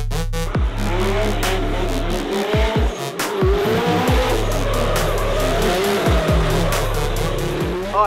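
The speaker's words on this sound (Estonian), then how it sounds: "Aga nüüd on meil siin Clemens Kaudereri AE86." A Toyota AE86 drifts with repeated loud tire squeals and skids over its revving engine, the screeches recurring in bursts as it passes up close.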